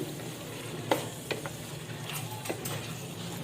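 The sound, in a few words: stirring fresh coriander into beef karahi in the pan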